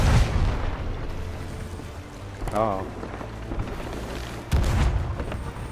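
Booming cannon blasts from a pirate ship in a video game, loud broadband bursts near the start and again later, over a constant rumbling water and ship background with players talking.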